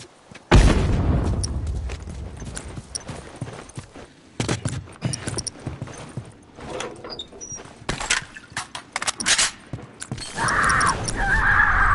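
A grenade going off in The Last of Us multiplayer, a loud sudden boom followed by scattered gunfire and clattering combat noise, with shots and bursts continuing through the scene.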